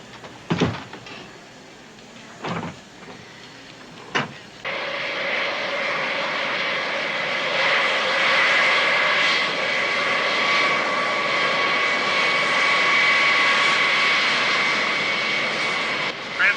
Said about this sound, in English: Transcon 602, cleared for takeoff.